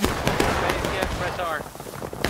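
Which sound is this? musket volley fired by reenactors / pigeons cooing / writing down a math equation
musket volley fired by reenactors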